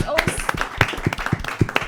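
An audience claps in thanks at a Foundry Sessions talk on Modo in advertising, a short run of scattered, uneven claps from a modest group.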